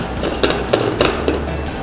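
Close, sharp plastic and metal clicks and knocks as a blade is fitted onto a mixer grinder jar holding bread, a handful of separate taps over a couple of seconds.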